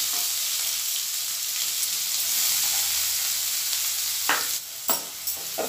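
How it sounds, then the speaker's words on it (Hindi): Chopped onion sizzles in hot oil with cumin and asafoetida for a dhaba-style palak dal, a loud steady hiss that breaks into several stirring scrapes and clatters in the last seconds. "और प्याज जो हम चॉप करके काटे थे, अब इसको भी इसमें डाल देंगे।"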